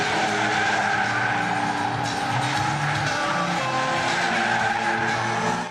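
A car spinning donuts at a motorsport event, its tires squealing and skidding continuously and loudly over a steady engine roar for the whole stretch.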